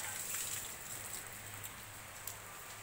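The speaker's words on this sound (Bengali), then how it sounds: "এখন দেখো ঠান্ডা ঠান্ডা বৃষ্টি পড়ছে" Steady rain falls outdoors after a hot sunny morning, a soft, even hiss with faint patters of drops, constant and close throughout, with no voices.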